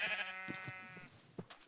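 A sheep bleats in a Minecraft-style video game, one drawn-out, wavering bleat up close, followed by a few soft thuds and clicks.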